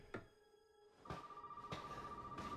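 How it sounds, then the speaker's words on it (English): Telephone ringing in the Resident Evil 7 video game, a steady electronic ring tone starting partway through and continuing to the end, with brief thuds and game ambience at moderate level. "Oh, now the phone works"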